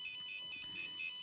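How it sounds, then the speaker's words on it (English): A cat litter box ammonia sensor alarm, a faint electronic high-pitched tone sounding in short repeated pulses with no other sound around it. "Oh, the alarm is going off"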